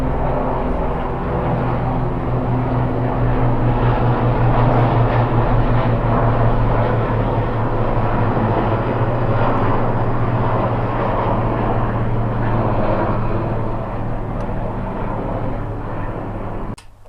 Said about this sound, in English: there we have a couple of merlins, I think, flying over